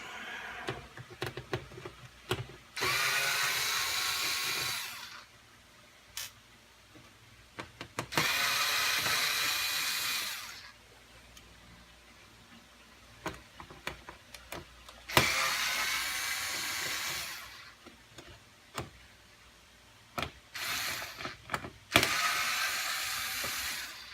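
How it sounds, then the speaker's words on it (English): A powered screwdriver whirs in several separate bursts, each a few seconds long, while screws are undone from a board inside a Samsung UE32F4510AK television, with small clicks and handling taps between the bursts, close up. "So let's undo the screws."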